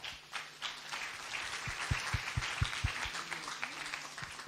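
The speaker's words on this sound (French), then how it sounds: "On va remercier et applaudir encore tous ces orateurs qui ont présenté des travaux extrêmement intéressants" Applause from a conference audience thanking scientific poster presenters, a dense, steady patter of many hands clapping in a hall, with a few sharper close claps standing out.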